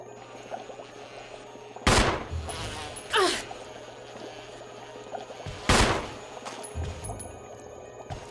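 Pistol shots in Resident Evil HD Remaster: three sharp, separate cracks spaced a couple of seconds apart over a quiet, humming background, with faint echoes after each.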